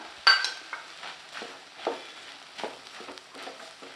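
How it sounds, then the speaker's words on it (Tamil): Stirring banana stem stir-fry with grated coconut and finely chopped coriander in a pan, a series of soft scraping and clinking spoon strokes against the vessel with irregular rhythm, close and fairly quiet. "இது கூடவே கொஞ்சமாக பொடியாக நறுக்கின மல்லித்தலை இப்போ ஒன்று சேர நல்லா கலந்து விட்டுக்கலாம்"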